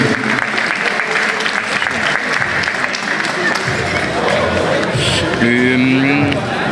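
Audience applause during a boxing match between rounds, a dense, sustained wash of clapping filling the hall, with crowd noise and faint voices mixed in throughout.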